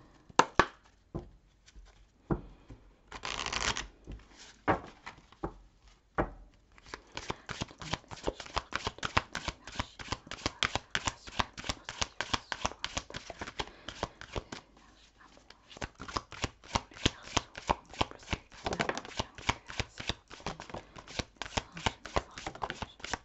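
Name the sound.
shuffling tarot cards for a reading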